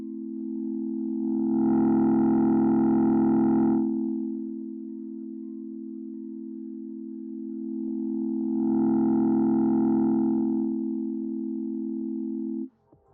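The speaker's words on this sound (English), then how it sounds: "The shape of the wave comes off as smooth, thus ideally making the distortion also a bit smooth and somewhat less harsher." A steady, sustained tone runs through smooth soft-clip distortion, swelling twice into a fuller, brighter buzz with added harmonics before easing back to a cleaner hum, then cutting off abruptly.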